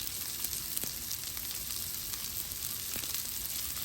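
Black pepper sautéing in a pan for pork spare rib adobo gives a steady, close sizzle with a hiss of frying, lasting a few seconds with no one talking.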